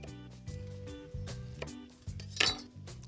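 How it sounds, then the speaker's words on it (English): A knife cuts a wedge out of a lime slice, producing a few light clicks and clinks of the blade against a surface, close up, over steady background music. "simply take a slice off the lime and cut a wedge out of the bottom"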